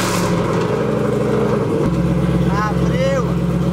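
A Chevrolet Camaro's exhaust revs loudly, then drops abruptly to a deep idling rumble, while people talk over it.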